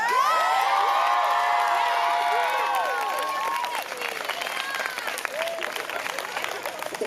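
Crowd at a school closing convocation claps and cheers, with whoops and high shouting voices riding over steady applause that gradually settles into sparser clapping.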